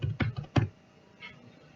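Quick keystrokes on a computer keyboard while typing in WordPad, a short burst of four close clicks and then one fainter tap, with no talking.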